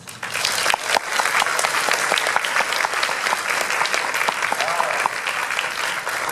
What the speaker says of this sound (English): See if you're still clapping by the end of this here